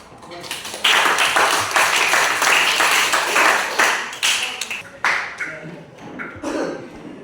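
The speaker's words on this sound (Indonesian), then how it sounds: "Berikan aplaus." A classroom audience claps after a student presentation, bursts of applause that rise, hold and taper off unevenly.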